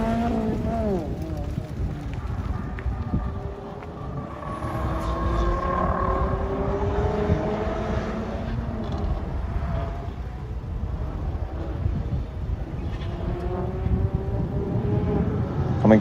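A Honda Civic race car crosses the finish line, its engine rising and falling in pitch as it passes, mixed with other engine drone and a commentator talking over it throughout.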